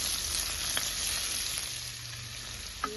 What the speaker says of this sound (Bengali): এগুলোকে একসাথে আমি অল্প একটু লবণ দিয়ে ভেজে নেব